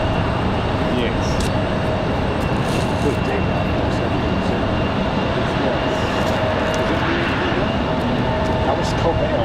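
A Copa Airlines jet airliner passing at Raleigh Durham airport rumbles loudly and continuously in windy conditions, with people talking intermittently over the engine noise.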